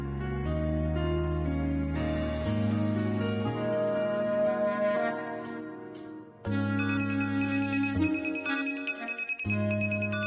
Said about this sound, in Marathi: फोन कोणाचा वाजतोय?